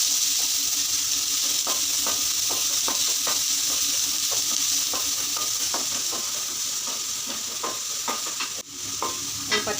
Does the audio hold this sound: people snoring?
no